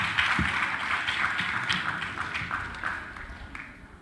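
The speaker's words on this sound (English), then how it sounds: "Another round of applause for all the speakers." Scattered, fairly faint clapping from an audience at a secondary-school agricultural debate, with sparse irregular claps and taps rather than a full ovation.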